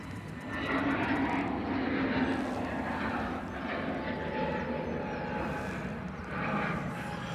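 Jet2 Airbus A321neo departing Manchester Airport for Alicante, a sustained broad engine roar at moderate distance, steady with slight swells and no talk over it.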